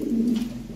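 Pigeon cooing, a short low throaty coo from a Lahori Sirazi pigeon, fairly close and steady, with no talk over it.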